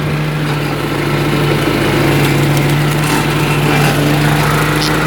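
A zero-turn lawn mower engine drones loud and close while mowing, a steady buzzing hum with a constant low tone and slight rises in power.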